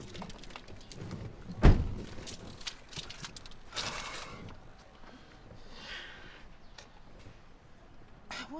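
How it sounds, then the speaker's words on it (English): Keys jangling in a car whose engine is failing to start, a sharp metallic clatter near the start followed by faint rustling, clicks and low mechanical noise, no engine catching. "The car doesn't want to start."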